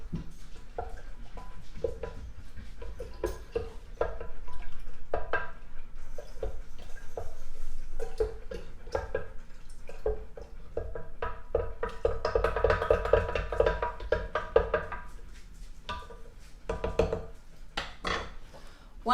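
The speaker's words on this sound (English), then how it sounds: "So I want to stir it for a little bit." A spoon stirs honey into homemade limeade in a pitcher, giving a steady run of quick knocks and taps against the container, close and moderately loud.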